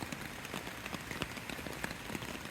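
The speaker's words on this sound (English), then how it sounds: "so there's a lot less rain kind of coming through here." Steady rain patters on a hammock camping tarp during a forest storm, a dense continuous hiss of drops with scattered sharper taps, close and fairly quiet.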